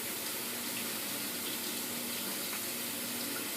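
Tap water runs steadily over about a pound of peeled, deveined large shrimp in a colander, a constant close rushing splash with no talk.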